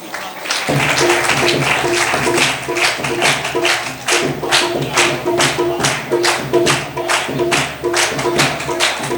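A congregation claps at a Christian ordination service as the ordained minister's helper is called forward. The applause is sustained and fairly loud, with a steady rhythm and a low sustained tone beneath it, and it continues for several seconds.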